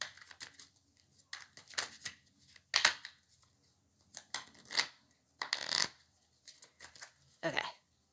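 Tarot cards are shuffled in bursts of crisp riffling and flicking, separated by quiet pauses, close and fairly soft, with no talking.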